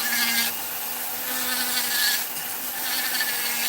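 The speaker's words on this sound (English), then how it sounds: "man, it just removes so much material. It is an awesome burr." A rotary tool with a large carving burr cutting into wood for a Knights Templar carving: a close, high-pitched whine with a steady grinding rasp that swells and eases in short bursts as the burr bites, and no speech.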